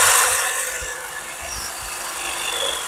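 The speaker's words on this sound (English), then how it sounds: "I'm thinking I'll try and do it with the hedge trimmers" An old hedge trimmer cuts through upside-down grass turf, giving a steady, close rasping buzz with a scratchy, shearing texture that runs throughout with slight swells, no voices.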